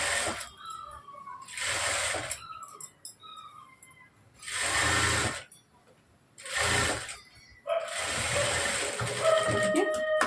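A sewing machine stitches the side seam of a blouse in several short runs of whirring, with pauses between them; someone talks over and between the runs.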